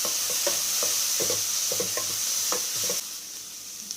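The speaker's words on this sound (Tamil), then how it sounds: "மஞ்சள் தூள் சேர்த்ததுக்கப்புறம் நல்லா கிளறி விட்டுட்டு நம்ம வேக வச்ச சௌச்சௌ சேர்த்துக்கலாம்." Pan stirring of turmeric with boiled chow chow (chayote): close scraping and clattering strokes in an irregular rhythm over a steady low sizzle, without talk, quieting slightly near the end.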